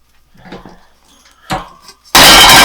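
A metal bread pan holding a freshly baked maple oat loaf is handled as the bread is tipped out, giving a few soft knocks and then one loud, sharp metallic clatter near the end.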